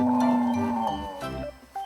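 Cows moo in a long, drawn-out, fairly close low bellow that trails off, followed by shorter grunting calls, in an open field during a Florida spring turkey hunt.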